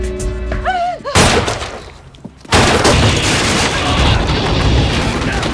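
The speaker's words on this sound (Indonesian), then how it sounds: "si pemuda itu menembak wanita tersebut dan langsung melarikan diri" Gunfire in the 2004 film Sniper, as a young man shoots a woman. Two sharp, loud, booming blasts are heard, the second followed by a long, noisy ringing tail.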